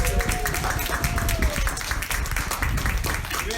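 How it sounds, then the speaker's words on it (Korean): Congregation at an outdoor Sunday service of a Maryland Christian church applauding graduating elementary, middle and high school students; dense, steady clapping from many hands fills the whole stretch, with voices mixed in. "다시 한번 큰 박수로"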